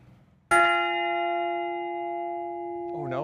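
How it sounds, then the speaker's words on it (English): A loud bell on a golf course is struck once close by, its bright metallic ring sustaining and slowly fading over a few seconds before a voice begins over the tail. "I don't think he cares if I ring the bell"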